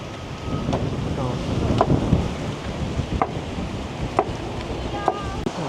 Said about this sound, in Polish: Dziś wieje bardzo silny wiatr